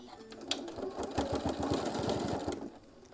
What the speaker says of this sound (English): So we're going to baste this down, increasing that stitch length.